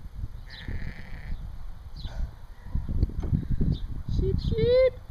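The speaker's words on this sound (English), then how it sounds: "Oh, look at the little sheep" Sheep bleat a few times outdoors, mid-distance and fairly clear, with a short wavering bleat near the end, over a low rumbling background.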